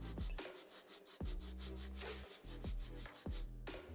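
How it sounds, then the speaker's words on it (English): An acrylic nail is filed with a nail file in steady, rhythmic back-and-forth strokes, each a close, dry rasp with short pauses between passes. "Now I'm going to file my nail in 5 steps"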